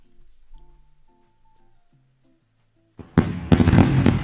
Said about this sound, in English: Another round of fireworks.